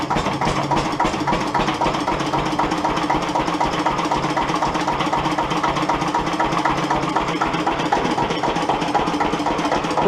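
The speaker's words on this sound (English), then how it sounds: "was wanting a stationary engine for the flax mill" A vintage stationary engine runs steadily at a machinery club shed visit, with a loud, close, even mechanical chugging and knocking that holds constant throughout.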